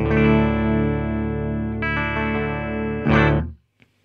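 A sustained electric guitar chord on the bridge pickup rings with a bright, clean tone, changes once partway, then a final strum is cut off into silence.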